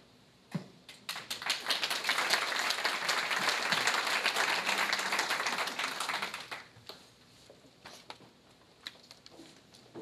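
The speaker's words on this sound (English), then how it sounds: "Let's give them a round of applause once again." Audience applause at an American Legion public service awards ceremony: a sudden burst of dense clapping swells, holds steady for about six seconds, then fades into a few scattered claps.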